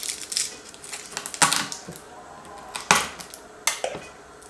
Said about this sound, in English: Let's chop these first.